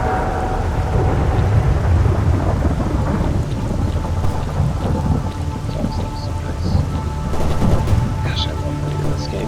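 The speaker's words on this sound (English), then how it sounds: "Rain looks so good in this game." A loud, continuous downpour in the STALKER Anomaly game is broken by rolling cracks and rumbles of thunder, close and dense from start to finish.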